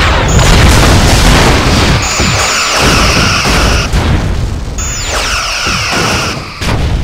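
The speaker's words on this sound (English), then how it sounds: "Lining up rear torpedo." A torpedo launch and explosions in a space battle between an armored Voyager starship and an Ori fleet: loud, continuous rumbling booms with sweeping whooshes and layered blasts that build in two waves.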